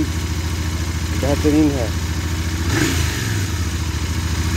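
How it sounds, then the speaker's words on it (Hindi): Royal Enfield Interceptor 650 motorcycle with a 270-degree crank, its exhaust giving a steady low rumble at idle throughout, with someone speaking briefly over it. "जब आप बाइक को हाईवे पे राइड कर रहे होते हैं तो जो इसकी एग्जॉस्ट की रोर है आपको बहुत ही बेहतर लगती है।"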